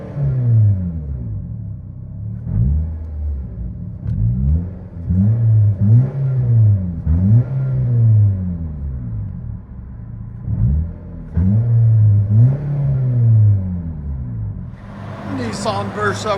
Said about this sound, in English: Nissan Versa with a vibrant resonator and blue flame tip.